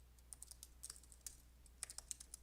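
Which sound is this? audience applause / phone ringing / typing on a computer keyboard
typing on a computer keyboard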